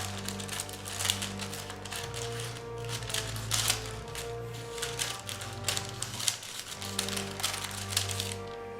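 Cutting drink coaster material along a marked line with a roller cutter, giving a steady, dense crackling and crunching that carries on without a break over a low background hum.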